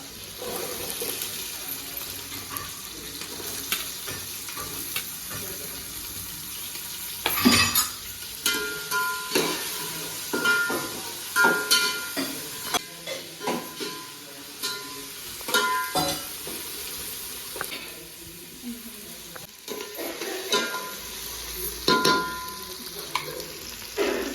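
Onion sizzles in a hot pan under a constant crackle while a spoon stirs it, giving repeated scraping bursts at irregular intervals, close and moderately loud, with no talking.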